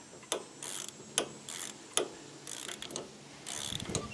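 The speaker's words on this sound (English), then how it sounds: "You'll see my ratchet go really fast." A ratchet wrench clicks in quick bursts while cranking on the steering parts of a Craftsman lawn tractor, short runs of rapid metallic ticks separated by brief pauses, close and clear with no talking.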